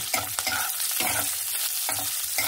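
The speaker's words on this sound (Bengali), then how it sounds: "এই পেঁয়াজটাকে ভালো করে একটু লাল লাল করে ভেজে নেব।" Chopped onion frying in a pan for a drumstick and mustard-poppy seed curry, with stirring strokes scraping through a steady close sizzle in repeated bursts.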